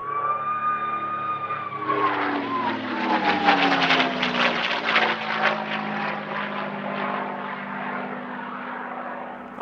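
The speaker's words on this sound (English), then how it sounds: "I will leave you to enjoy the sounds of the P-51D Mustang." A P-51D Mustang's piston engine roars past at an airshow, a loud propeller drone whose pitch drops as it passes, swelling to a rasping peak and then fading slightly while staying strong.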